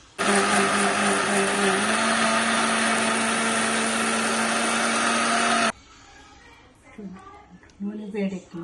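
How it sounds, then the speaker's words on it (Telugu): A mixer grinder blends cooled tomatoes with a fried tempering of chana dal, urad dal, mustard seeds and cumin, a loud steady whirring motor that shifts pitch once, then cuts off abruptly, leaving quiet kitchen sounds and a voice talking. "చల్లారిన తర్వాత ఈ పోపులో వేసి మిక్సీ పట్టేయాలి."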